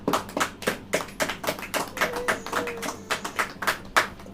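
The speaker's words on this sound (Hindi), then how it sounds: "तालियां बजाइए।" A church congregation claps together in a steady, fast rhythm, each clap landing crisply in unison for several seconds with no talking over it.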